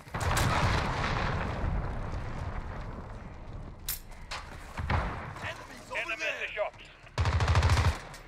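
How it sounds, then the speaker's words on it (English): Heavy explosive blasts and rumbling impacts of a cruise missile strike in the video game Modern Warfare, loud and close, with scattered gunfire and a burst of radio-style voice chatter between the booms. "Allied cruise missile launched."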